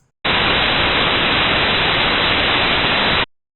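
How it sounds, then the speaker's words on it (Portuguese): White noise test signal playing alone at steady full loudness for about three seconds, a dense, even hiss that cuts off abruptly with no voices. "o ruído branco, a natureza do sinal é completamente diferente"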